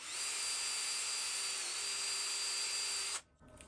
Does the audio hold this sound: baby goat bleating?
no